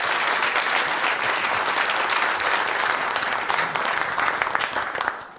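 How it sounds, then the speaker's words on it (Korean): A large crowd at a People Power Party presidential primary event applauds loudly. The dense, steady clapping holds for about five seconds, then fades away at the end. "큰 박수 부탁드립니다."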